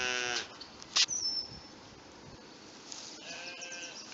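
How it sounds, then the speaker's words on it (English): Sheep bleating on a farm, one loud wavering bleat at the start and another toward the end, fairly close, with a sharp squeak and faint handling noise between and no talking. "Here's Jax meeting the sheep for the first time."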